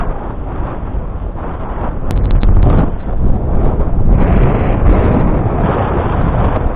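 Wind rising at sea on a sailboat during a crossing from Les Sables d'Olonne toward Oléron, loud continuous wind buffeting the microphone with a gusty roar and a brief sharp clatter partway through.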